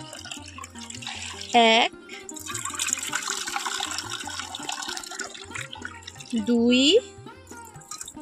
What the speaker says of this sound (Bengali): তো এইরকম মোট 4 বাটি আমি এখানে জল নিয়ে নিলাম।